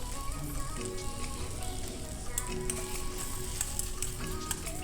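Brinjal pieces sizzle and crackle in hot oil in a pan while being stirred, a dense, steady frying hiss with occasional scraping, close and continuous throughout.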